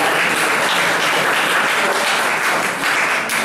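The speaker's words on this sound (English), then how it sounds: "A very warm applause for Padma." Loud, sustained applause from a lecture audience, dense clapping that holds steady throughout and swells slightly near the end.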